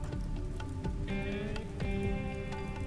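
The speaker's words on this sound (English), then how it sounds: "Shouldn't last too awful long with this rain." Rain patters steadily across the whole stretch in the video game RimWorld, a soft, even hiss of drops sitting under light tonal game music and faint clicks.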